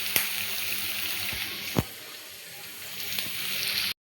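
Onions frying in a pan for gobi manchurian, giving a steady, close sizzle with a few sharp clicks and taps of a utensil against the pan.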